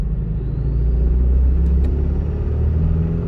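A 2025 Toyota Tacoma SR with a manual transmission lugs its engine at low RPM in fourth gear, a loud, close, deep rumbling drone with a slight throb, heard alone.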